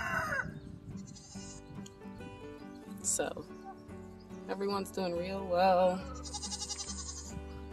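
Goats, including pygmy goats, bleat intermittently, close by, beneath someone talking over a steady background of animal noise, with a brief rooster call mixed in.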